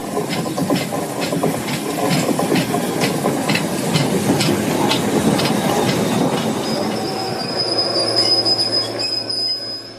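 A steam locomotive rolls into a terminus with rhythmic metallic clanking and wheel noise, ending with a long high squeal as it slows, loud and near.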